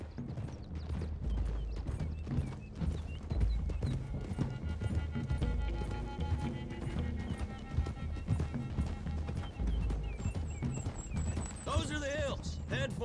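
Several horses gallop in the Red Dead Redemption 2 video game, a continuous rolling clatter of hooves with wind and game sounds, and a horse whinnies near the end.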